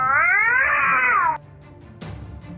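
A small cat gives a loud, drawn-out yowl while facing off against a coyote, a strained wail lasting over a second before cutting off sharply, followed by a brief rustle.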